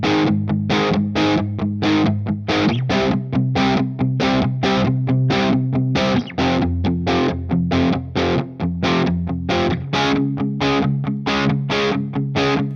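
A distorted electric guitar strums a chord progression in a steady, driving rhythm, each chord sharply attacked and sustained, loud and close with no voice over it.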